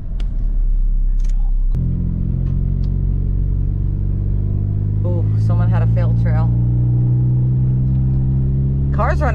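A Honda Civic with freshly changed differential fluid drives along, its engine a steady, loud low rumble throughout, with a brief shift in tone near the start and people talking over it in the middle and at the end.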